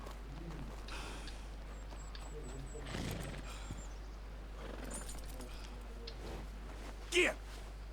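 A horse in the video game Red Dead Redemption 2 snorts and shifts with soft hoof clops, ending in a short sharp neigh near the end, heard under a steady low hum and a voice.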